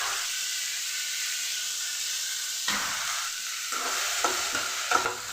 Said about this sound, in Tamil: அதனால் வெங்காயத்தை நல்லா வதக்கிடுங்க